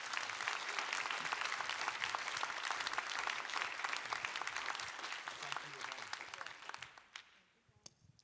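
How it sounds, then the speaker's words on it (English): An audience at an academic panel on human-centred AI applauds the panelists, a dense burst of clapping that carries for about seven seconds, then thins out to a few scattered claps and faint voices. "could you all give a round of applause to the panelists?"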